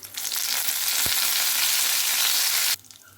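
Garlic and curry leaves fry in hot tempering oil for a raw mango chutney, making a loud, dense, continuous sizzle close up. The frying cuts off abruptly near the end, leaving only a quieter background.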